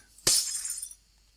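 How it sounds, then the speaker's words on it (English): A glass block breaks in Minecraft with one sharp, bright shatter and a short tinkling tail that fades within a second, over near silence. "You can remove these glass blocks if you like."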